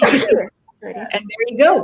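A single sharp sneeze bursts out close by, followed by a person speaking briefly.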